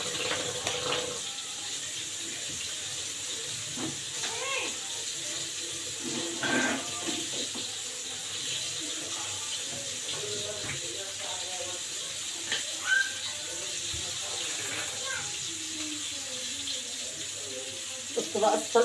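Hands are washed under a running kitchen tap, with water pouring steadily and splashing close by as a voice talks intermittently over it.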